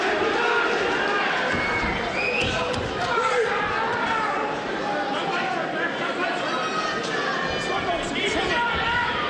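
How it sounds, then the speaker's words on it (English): Crowd noise fills a boxing match between Danny McIntosh and Matthew Barney, a dense steady roar of many voices chanting and calling throughout, close and loud with no lull. "Danny is the chant of the crowd"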